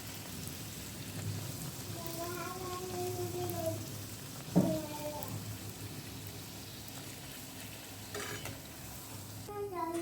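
Palak puri deep-frying in hot oil, a steady low sizzle and bubbling running throughout, with a few faint tonal squeaks and one sharp knock midway.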